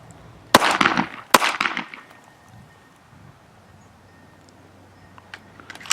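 Two loud, sharp gunshots crack close by at a shooting range, each followed by a short ringing decay, then a quiet stretch with faint clicks and handling sounds.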